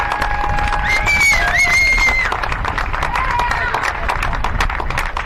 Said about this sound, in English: give us a nice round of applause for the Barnett Super Street class